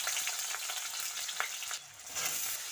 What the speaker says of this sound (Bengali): তো এবারে আমি তেলের মধ্যে দিয়ে দিচ্ছি পেঁয়াজ আর আলুটা